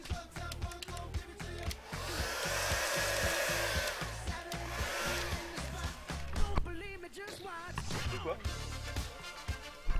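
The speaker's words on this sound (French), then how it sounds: "Et donc on va sortir le sèche-cheveux de madame." A woman's hair dryer whirs steadily through most of the stretch with a rising and falling whine, while voices talk intermittently over it and some handling noises follow near the end.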